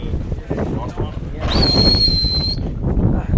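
A referee's whistle gives one long steady blast of about a second at a European beach polo championship referees' meeting, loud over the chatter of people talking nearby.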